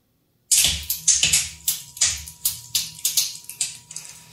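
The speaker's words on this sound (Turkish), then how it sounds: "Şömine sesi." Sharp crackles and pops from a fireplace fire repeat every half second or so, each snapping loudly then fading, with a faint steady hum underneath.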